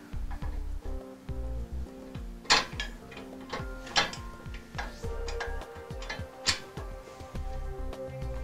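Metal bolts and hardware clink and tick as they are handled while mounting a Pack'Em Rack in an enclosed trailer, with scattered sharp metallic taps over a low hum and no voices.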